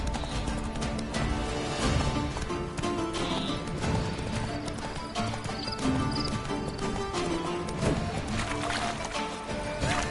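Hooves of the horse Roach in The Witcher game clatter in a fast, continuous gallop with occasional whinnies and thuds, loud and close throughout.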